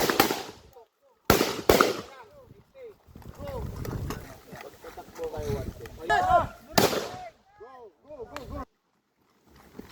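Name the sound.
gunshots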